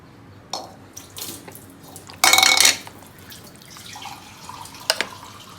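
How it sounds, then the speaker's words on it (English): Water is poured from a tap into a cooking pot for prawns being prepared as a raw mango prawn curry, with a strong gush in the middle and a few brief splashes and clinks around it, close and fairly loud. "Add sufficient water for the prawns to cook in."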